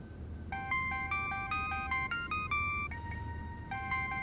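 A phone plays a melodic electronic ringtone, a repeating pattern of bright beeping notes, clear and steady over a low background hum.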